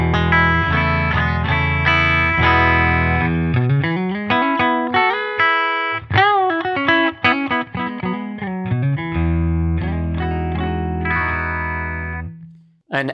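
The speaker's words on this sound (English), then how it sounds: "Now as a split coil at the bridge." PRS S2 McCarty 594 Singlecut electric guitar played clean through a 20-watt amp on the bridge pickup in split-coil mode, ringing chords and single-note runs with sustained notes, loud and close with no talking.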